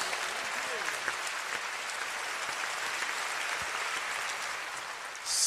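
A concert crowd at the final show of a band's 40th anniversary live tour gives the horn section (saxophone, trumpet and trombone) a long, even roar of applause, a steady dense patter that holds throughout.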